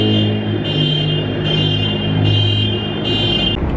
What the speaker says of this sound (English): That piece of garbage pickup truck without a muffler made so much noise